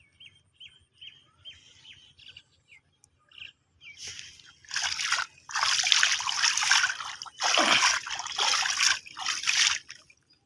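Shallow stream water trickles and gurgles in bursts, loud and close, rising and falling over several seconds, with faint bird chirps early on before the splashing flow takes over.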